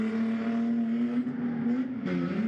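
A drift car with a swapped G-body motor revs hard at a grassroots drifting competition at Agassiz Speedway, a loud, steady engine drone holding pitch with brief dips and surges, close and continuous.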